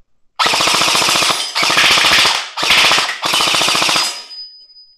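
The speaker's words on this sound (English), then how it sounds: "All right, we'll shoot a little bit." An EMERBUTOYS Gen 8.5 M4 gel blaster fires four loud, rapid full-auto bursts at close range, a dense buzzing rattle of shots broken by short gaps, with a faint mechanical whine trailing after the last burst.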